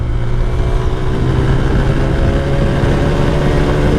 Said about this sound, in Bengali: আর বাইকের সাউন্ডটা শোনেন একবার